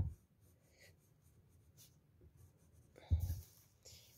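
A pencil sketches a child's legs on paper for a fashion figure drawing, giving a soft, continuous scratchy scribble close up with short strokes and a louder scrape near the end.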